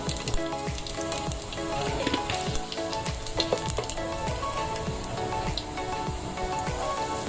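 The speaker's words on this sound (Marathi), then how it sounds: "तेल बघा चांगलं आपलं तापलेलं आहे मस्त असे जिरे घालूया" Cumin seeds sizzling and crackling in hot oil for a Maharashtrian Bhogi mixed vegetable dish, a dense, steady, close-up sizzle with scattered pops, with no voices.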